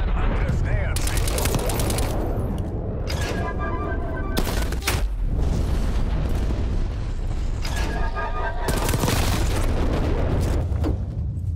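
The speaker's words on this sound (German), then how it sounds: "Napalmangriff nähert sich." Napalm strike and battlefield explosions in Call of Duty Black Ops Cold War multiplayer, with loud booming blasts and crackling fire rolling continuously over gunfire, with game voice callouts mixed in.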